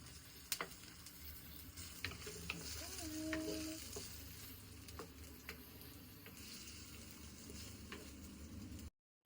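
Onion fries with a soft, continuous sizzle in a clay pan, faint and close, broken by a few clicks and stirring taps before cutting to silence.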